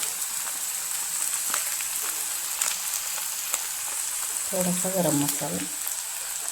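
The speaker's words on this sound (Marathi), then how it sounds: "मसाला थोडासा असा व्यवस्थित भाजला पाहिजे" Chutney masala with turmeric and garam masala fries in a pan, giving a steady soft sizzle throughout, while a voice briefly speaks near the end.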